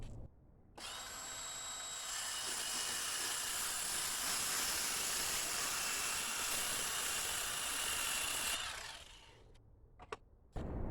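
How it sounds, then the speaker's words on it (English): A power saw cuts through a plywood board for a garage tool hanger, a loud, steady high-pitched whine running for about eight seconds before spinning down, followed by a few light knocks. "So I'm going to cut a piece of plywood that is 4 inches wide by 12 inches deep"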